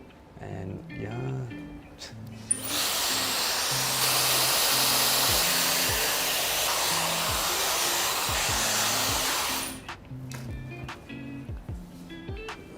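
A hair dryer dries curly hair during a defined-curls styling session. It blows loudly and steadily for about seven seconds, and people talk briefly before and after.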